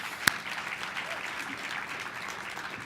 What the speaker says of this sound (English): give a round of applause to my staff, the staff at the Center for Connected Health